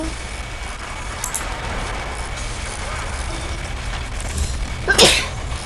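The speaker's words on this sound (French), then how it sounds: "Excusez-moi pour cet éternuement." A single sharp sneeze bursts out near the end, over a constant rumble of passing traffic.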